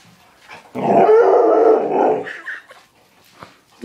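A puppy named Scout growls and barks during play, a loud rumbling growl with yappy, whiny vocalizing that trails off into short softer yips, heard alone at close range.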